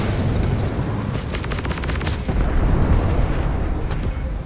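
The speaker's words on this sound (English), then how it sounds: "Get these missiles out." Missiles launching during space combat in the video game Star Citizen: a close, loud run of rapid repeated blasts in the middle, over a constant heavy rumble of engines and weapon noise, with no talking.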